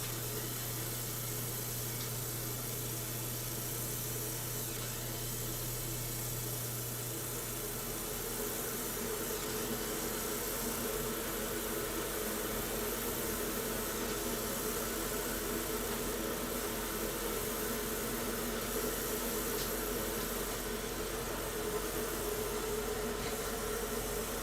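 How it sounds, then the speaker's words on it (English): An exhaust fan running beside a 60-watt MOPA fiber laser gives a steady, broad whooshing hum with a low drone, continuous and unchanging throughout with no talk. "I'm also going to go turn up the exhaust fan a little bit."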